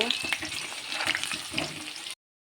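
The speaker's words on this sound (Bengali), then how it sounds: "আলুগুলি লাল লাল করে ভেজে নিয়েছি তুলে নেব" Potatoes frying in hot oil until reddish-brown, a steady crackling sizzle with a few soft utensil knocks, close and continuous before cutting off abruptly.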